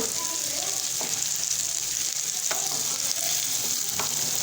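Onions roasting in a pan toward golden brown for a spicy onion chutney, a steady close hiss of frying oil with a few faint clinks of a stirring spoon.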